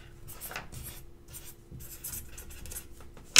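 A pen writing a prescription on paper: quiet, close scratching strokes in short bursts with brief pauses, ending in a sharper tap.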